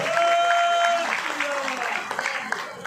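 A crowd at a community gathering applauds for Narendra Mehta with steady clapping, while a voice carries over it.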